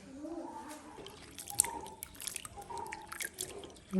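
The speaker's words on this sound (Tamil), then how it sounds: "நாலாவது தண்ணியில் கழுவுறோம்" Water drips and splashes softly as elephant foot yam is rinsed in a fourth change of water, faint and close, with irregular small drops and a faint voice in the background.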